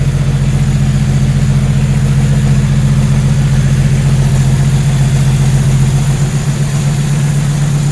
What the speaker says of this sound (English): That thing's idling really smooth and everything.